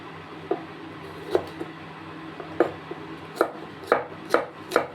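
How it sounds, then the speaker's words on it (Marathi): A knife chops okra on a board in about nine crisp, separate thunks spaced irregularly over a few seconds, close and fairly loud over a low background hum. "भेंडी ही कट करून घेऊया"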